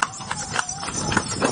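Hooves of a horse pulling an andong cart clip-clop in a steady trotting rhythm on the road in Gili Trawangan, close and clear over street ambience.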